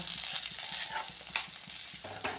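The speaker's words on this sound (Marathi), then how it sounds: "हा बटाटा आपण असा वाफवून घ्यायचा आहे आता थोडं परतूया" Steamed potato sautéed in a pan, a soft hissing sizzle broken by repeated spatula scrapes and stirring strokes, close and alone.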